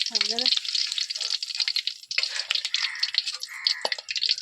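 Meal maker pakodi frying in oil over a wood-fire stove, a dense steady crackle and sizzle with brief hissing bursts, close and continuous, with a voice speaking briefly at the start.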